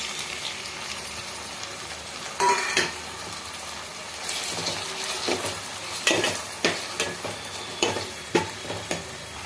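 Tomato pieces frying with onions in a pan for egg curry, giving a steady sizzle broken by repeated stirring scrapes and clinks of a utensil against the pan, loud and close with no voices.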